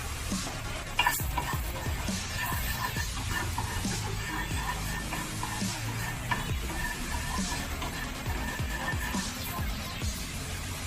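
Continuous sizzling of butter melting in a hot frying pan with scraping stirs throughout, dense and fairly loud, with no voices.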